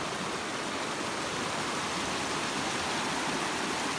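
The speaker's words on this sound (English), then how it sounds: "And this is the creek." A creek flows steadily outdoors, a dense, even rushing hiss of water close by with no gaps or voices.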